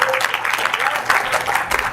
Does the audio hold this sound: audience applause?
yes